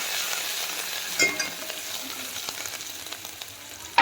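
Coriander is stirred into dal frying in a pan, a continuous close sizzle with light scraping and clinks of the spoon against the metal, no voices.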